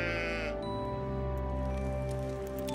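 Sheep bleating in a biblical scene where Abraham offers a ram in place of his son; a sustained, wavering bleat over a continuous musical score, fairly close and clear.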